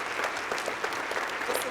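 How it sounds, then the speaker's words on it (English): A school awards-evening audience claps for students at a high school education celebration, a dense, even burst of many hands close and loud, with no pause. "Can we please give our most prized possession, our students, a round of applause?"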